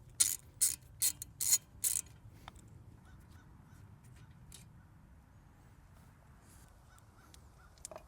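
Ratchet wrench loosening brake caliper bolts on a Lexus ES300: five quick bursts of sharp clicking close up in the first two seconds, followed by quiet workshop background with faint scattered clinks.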